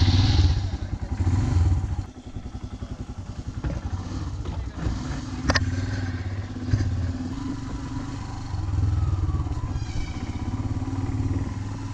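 A serviced touring motorcycle loaded with mounted luggage idles and pulls away at the start of a road trip, a close low engine throb with some clatter and a voice speaking.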